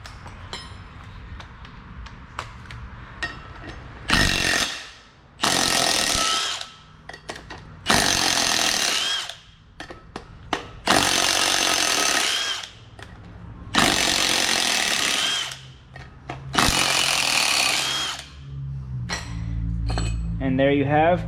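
A power tool spins out 13mm bolts holding a wheel bearing to a rotor in about five loud, whirring bursts separated by pauses, with metallic clinks and handling noises between runs.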